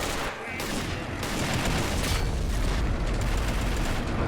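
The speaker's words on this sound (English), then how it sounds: "and they start opening fire" Blue army troops in an Army Men video game fire in a dense, continuous barrage of overlapping gunshots and booms, loud and sustained, with a voice faintly underneath.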